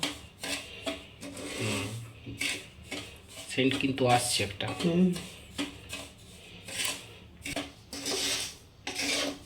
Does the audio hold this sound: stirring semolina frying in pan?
yes